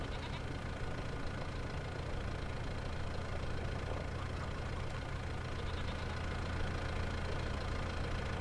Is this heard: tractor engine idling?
yes